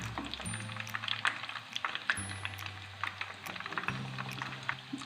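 Mixed vegetable cutlets fry in a pan with a soft, steady sizzle and faint crackling, quiet and close, with occasional light clicks throughout.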